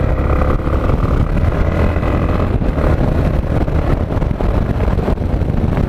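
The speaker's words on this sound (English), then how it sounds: "listen to that wind" Strong wind buffets the microphone outdoors in a continuous loud rumbling roar with gusty bursts, and faint traffic noise sits underneath.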